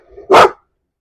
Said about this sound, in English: The dog is barking because he sees other people leaving